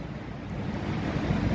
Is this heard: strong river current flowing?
yes